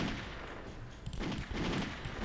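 A machine gun pistol firing in a Robocop video game, a quiet rapid rattle of shots that thickens into a denser burst toward the end over a steady background.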